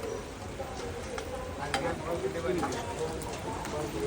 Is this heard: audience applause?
no